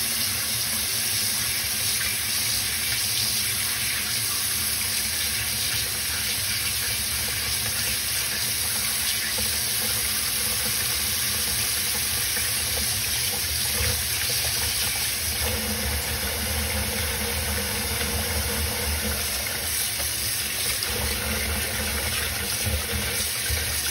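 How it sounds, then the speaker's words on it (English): Tap water pours steadily into a bin for soaking handknit wool socks, a continuous rushing gush with a slight shift in tone as it fills. "Turn the water on."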